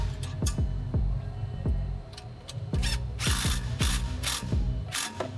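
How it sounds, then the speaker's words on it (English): A ratchet socket wrench with a 10mm socket clicks in quick repeated bursts while bolts are tightened on a Polaris RZR Pro R 4, close and crisp with short pauses between strokes. "fully tighten the remaining bolts using a 10mm socket and wrench"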